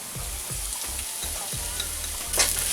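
Sliced garlic frying with onions in hot oil for a lamb curry, a constant close sizzle with regular low spatula scrapes against the pan roughly every half second and a brighter clatter near the end, no voices.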